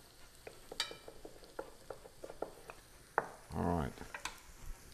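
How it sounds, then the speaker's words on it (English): Red potatoes braising in butter are stirred around a pan, giving scattered soft scrapes and clicks with a brief louder burst of sizzling and scraping near the end, while a person speaks briefly. "Stir these around so they don't burn."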